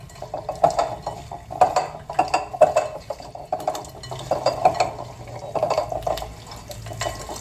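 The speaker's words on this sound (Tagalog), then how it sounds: "Haluin ng maigi." A chicken marinade with salt, pepper and fish sauce is stirred in a pan. Clinks and scrapes come in irregular bursts, each lasting about half a second, with a wet swishing sound beneath them.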